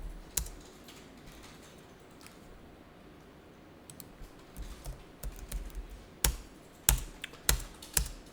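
Typing on a computer keyboard to run a search in accounting software, with scattered quiet clicks at first, then a quicker run of close, crisp keystrokes with a few firmer presses near the end.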